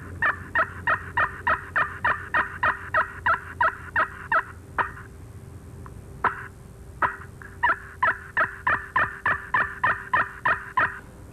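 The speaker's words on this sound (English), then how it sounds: "Mating yelps." Wild turkey hen mating yelps from a spring gobbler hunting call come as a steady series of sharp, evenly spaced yelps, close and loud, with a brief pause midway before resuming.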